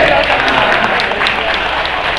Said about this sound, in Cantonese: 我哋俾啲掌聲鼓勵佢哋